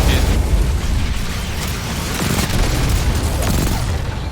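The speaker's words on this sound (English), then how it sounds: "He's gonna do an AoE fire attack." Fiery area-of-effect explosion in the shooter game Destiny 2, a dense, continuous roaring blast with deep rumble and crackle that stays loud throughout, with no clear talking.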